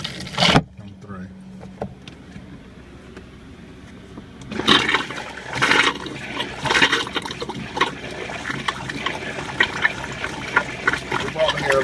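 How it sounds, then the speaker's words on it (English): Water rushes and trickles into the toilet of an r-pod RV after a toilet part is replaced, heard close up in irregular bursts, with a voice speaking now and then. "I hear water coming through."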